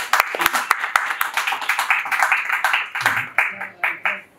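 Clapping from the audience at a festival press conference, starting with distinct sharp individual claps that thicken into a denser round of applause, with voices talking underneath and over it.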